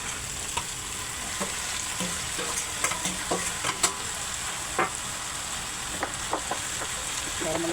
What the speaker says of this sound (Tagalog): isalang ko na talaga yung mga sibuyas